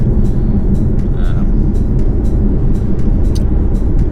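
A jacked-up, SUV-style car drives along the road, its loud, steady engine and road rumble filling the cabin continuously, with a voice faintly audible over the noise.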